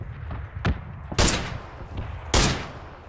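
AWM sniper rifle fire in PUBG: a few sharp, loud shots spaced about a second apart, each with a short echoing tail, over a low background rumble.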